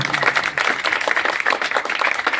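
A crowd applauds at a swimming competition held at MH Club & Resort, with steady, dense clapping from many hands at moderate distance throughout.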